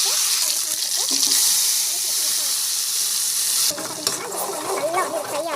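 Ginger and garlic fry in oil in a home kitchen, a bright continuous sizzle and hiss that drops off suddenly near the end, followed by stirring scrapes while a voice talks.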